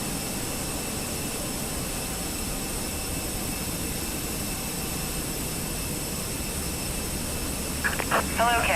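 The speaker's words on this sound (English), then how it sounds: "See them prepping the plane for pushback." Airliner jet engines hum in a flight simulator game as the plane is readied for pushback, a steady whining drone with a constant high tone throughout, joined near the end by a short burst of voice.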